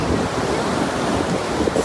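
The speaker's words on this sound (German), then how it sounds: "da hinten, wo die Wellen brechen, da ist dann wirklich das Meer" Caribbean sea waves break along the shore in a continuous wash of surf mixed with wind noise, steady and fairly loud with no voices.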